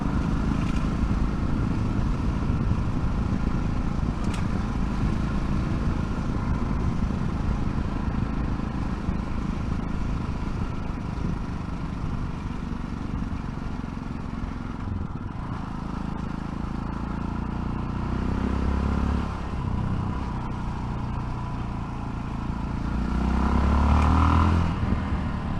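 A Yamaha Tenere 660 motorcycle is ridden on the road, its single-cylinder engine droning steadily under wind noise, with the revs rising as it accelerates strongly near the end.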